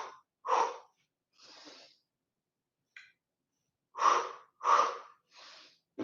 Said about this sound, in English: and you exhale, exhale.